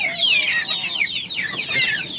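Chickens in a coop give a dense run of high, overlapping squawks and clucks that carry fairly loud across the whole stretch.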